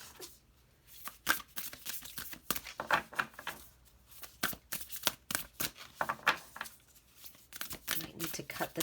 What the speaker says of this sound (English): To cut the deck for this one.